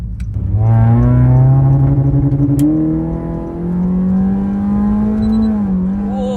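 A modified Honda Jazz with a CVT transmission accelerating hard, its engine droning loud and close in a smooth rising whine that holds steady, eases briefly, then climbs again, with no voices over it.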